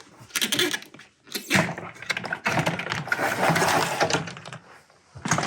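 A balcony door at an off-grid cabin is worked open up close, with bursts of rattling, clunking and scraping hardware separated by brief pauses.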